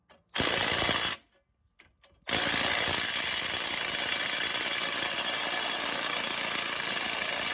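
Pneumatic impact tool loosening bolts near a car's sway bar, two loud close bursts of rattling hammering with a short pause, then a long sustained run of the same harsh ratcheting buzz, no talk.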